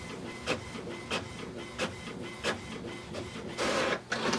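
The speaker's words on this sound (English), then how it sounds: "So you can hear now that it's printing" An HP Envy 7155 all-in-one inkjet printer is printing, with a steady mechanical whir broken by regular clacks and thumps from the carriage roughly every half second, fairly quiet and close, with no talk.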